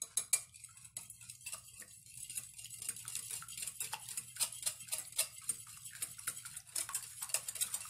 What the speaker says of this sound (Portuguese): Aqui, gente, eu tenho dois ovos e coloquei lá uma colherzinha de café de sal, ó, tá vendo? Aí, vou dar uma mexida aqui.